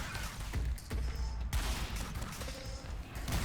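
Turret gunfire in the video game Incision: a dense, continuous burst of rapid shots with booming low end, loud and close throughout, with faint tonal game sounds behind.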